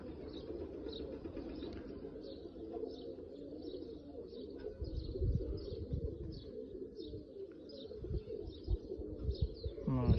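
Oman Teddy pigeons coo in a low, steady murmur close by, with light chirps and occasional wing rustles scattered throughout, growing slightly louder and busier toward the end.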